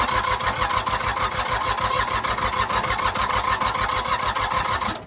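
A diesel tractor engine cranks over steadily with air in its fuel lines, its starter giving a rapid, rhythmic chugging that runs for the full stretch without catching, close and loud.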